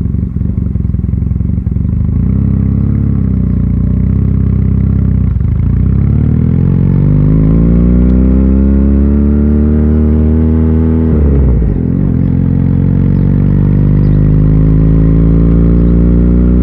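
A motorcycle engine runs loud and close near idle, a deep rumbling drone whose pitch dips and rises gently in slow swells across the whole stretch.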